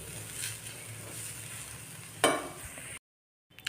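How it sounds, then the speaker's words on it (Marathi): Potato chutney with coriander sautéing in a pan, a soft steady sizzle with a brief louder stirring scrape near the end, then a cut to silence. "बस आता फक्त 2 मिनिट छान परतवून देऊ आणि आपली चटणी रेडी."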